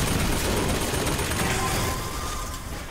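Sustained rapid gunfire from BioShock Infinite, a dense continuous rattle of shots that stays loud throughout and eases slightly toward the end.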